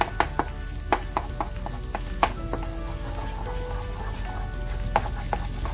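Egg scrambled with tomato and okra in a frying pan, a soft steady sizzle broken by repeated sharp spatula taps and scrapes against the pan, close up and with no voices.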